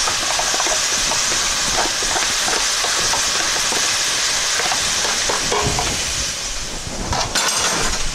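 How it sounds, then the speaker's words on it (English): Onions and garlic fry in a pan for a spicy beef spaghetti, giving a loud, steady sizzle with scraping and clattering from stirring scattered throughout, and a few sharper clinks near the end. "you can hear our onions and garlic frying up"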